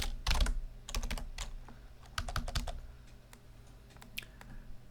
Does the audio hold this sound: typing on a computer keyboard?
yes